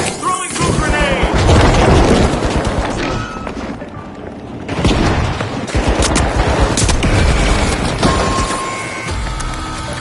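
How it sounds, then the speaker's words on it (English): A goo grenade bursts during a match of the video game The Finals, set off amid heavy gunfire and blasts that pound almost without a break, with a brief lull before the barrage of explosions and shots resumes at full force. "Throwing goo grenade."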